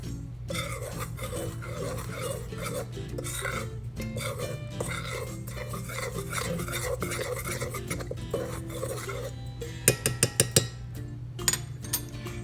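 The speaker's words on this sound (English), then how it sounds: "We're just going to mix that really good so all of the ingredients are incorporated." Soda bread ingredients are stirred together in a mixing bowl, a steady scraping and rubbing of spoon against bowl, close and continuous, with a few sharp clinking taps near the end.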